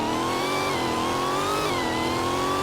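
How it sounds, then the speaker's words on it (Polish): A supercharged car engine revs loudly and continuously, its pitch rising and falling with a distinct supercharger whine riding over the engine note, heard close up with no talking. "To dźwięki silnika."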